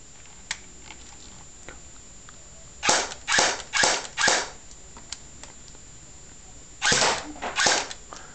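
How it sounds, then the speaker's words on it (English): A Well Scorpion gun fired in a shooting test: four short, sharp bursts of shots in quick succession, a pause, then two more bursts, all loud and crisp against a quiet background. "So we'll get to the shooting test now."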